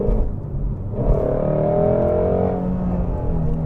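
Ford Mustang GT350R V8 revving while driving, a rising, howling engine note climbing for about a second and a half before easing back to a steady drone under road noise.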